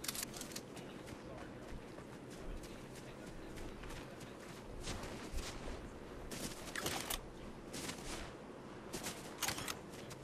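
Gunfire in a Fortnite match, sharp bursts of shots crackling at intervals over a busy game soundscape with footsteps and movement, fairly distant rather than close.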